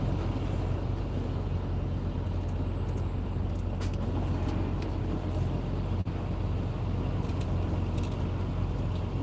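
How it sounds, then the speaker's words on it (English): Heavy road traffic on a Washington State highway makes a constant low rumble heard from inside a vehicle, with faint higher passing whooshes and a brief knock partway through. "First time I've seen this much traffic"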